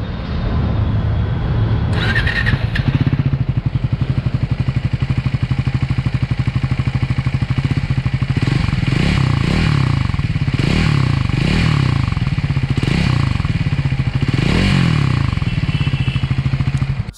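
Triumph Scrambler 400 X motorcycle engine running steadily and loud throughout, a continuous low rumble with rising and falling revs from throttle blips, plus some brief clatter near the start.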